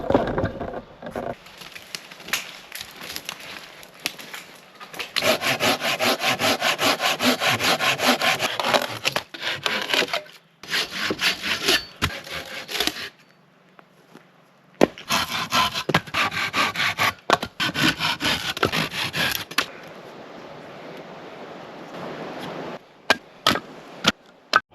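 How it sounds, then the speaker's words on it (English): Firewood being cut by hand in remote woods, with a rhythmic run of close, loud saw strokes through wood, repeated in several bursts separated by brief pauses. "that's just going to have to be enough firewood, because that's all I'm willing to cut tonight"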